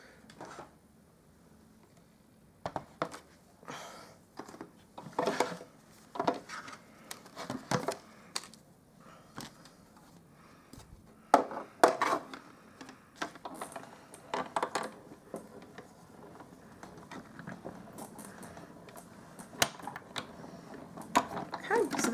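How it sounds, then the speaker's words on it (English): A die cutting machine cranking a paper-craft Easter treat box through, with irregular mechanical clicks, ratcheting clunks and rolling gear noise in bursts at close range. "we'll put that through our die cutting machine"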